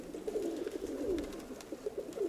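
Pigeons coo steadily in a loft, a soft rolling chorus of several doves close by with no talking.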